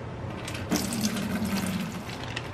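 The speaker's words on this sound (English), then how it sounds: "Right now I'm just washing the rice." Water runs from a kitchen tap over rice being washed, a steady close gush with a low rumble, and no one speaks.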